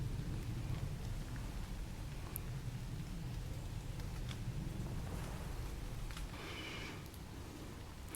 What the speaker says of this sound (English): and then it rains